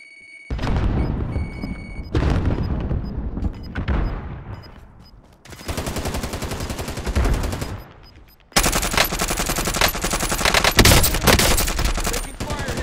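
Video-game machine gun firing in several loud sustained bursts separated by short pauses, with booming impacts mixed in, the final burst the heaviest and longest.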